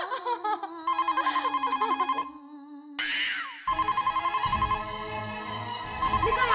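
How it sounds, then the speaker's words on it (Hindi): A telephone bell rings in a home in a Hindi television sitcom, sounding in loud repeated bursts that pause briefly partway through and then resume, with faint background voices. "फोन की घंटी बज रही है कब से?"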